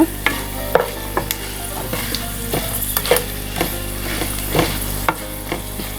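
Garlic tempering crackling in hot oil for a curry leaf chutney, a close sizzle broken by repeated sharp clinks and scrapes of a spoon against the pan, no voices.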